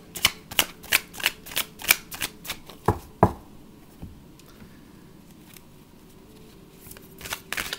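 Tarot cards being shuffled close up, a rapid run of crisp riffling snaps and flutters that ends in a couple of sharper taps, followed by quiet handling and a few soft clicks.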